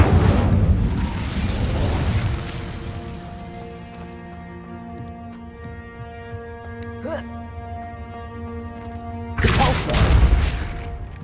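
An Incendio fire spell in the video game Hogwarts Legacy bursts with a loud, roaring whoosh at the start, fading into quiet ambient tones with a faint chime, then a second fiery blast near the end.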